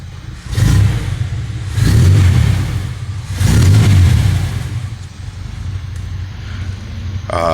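A 1985 GMC High Sierra squarebody pickup truck engine turns over and runs, three loud rising revs in a row, then settles into a steady lower idle, close up.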